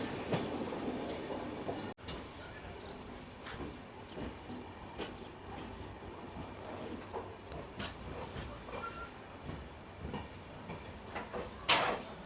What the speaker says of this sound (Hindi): इधर आदमी कहाँ टंगा हुआ है, नीचे से ट्रेन निकल रही है।